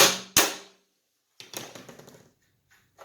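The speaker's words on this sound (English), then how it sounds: "you're just going to hit it with a hammer" A hammer strikes a locking nut on a Graco 650PC paint sprayer pump during a repack rebuild: two sharp, loud metallic blows in quick succession, then a brief clattering rattle and faint taps in a quiet workshop.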